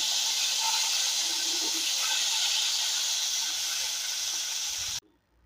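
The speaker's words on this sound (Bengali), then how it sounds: "মাছগুলোর একটা পিস ভাজা হয়ে গেছে একটু উল্টে দিই" Fish frying in hot oil in a home kitchen, a steady broad sizzling hiss that runs close and loud for about five seconds, then cuts off abruptly as the piece is flipped.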